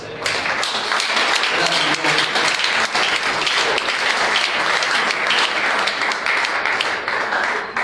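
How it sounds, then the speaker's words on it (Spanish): A church congregation breaks into strong, dense applause during a sermon, a loud continuous roar of clapping that holds steady without pause, with voices mixed faintly into the sound. "Dale un fuerte aplauso a Cristo."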